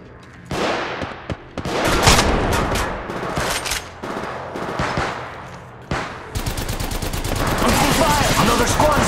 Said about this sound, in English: I'm taking fire. Multiple squads attack.